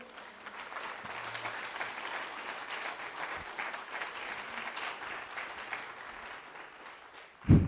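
Steady applause from a church congregation fills the room, a dense even wash of clapping that carries on for several seconds before a sudden loud thump at the end.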